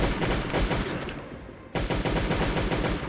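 Continuous rapid automatic gunfire in the survival video game Last Day On Earth: Survival, loud and dense, with a brief dip before a fresh sustained burst; no talking.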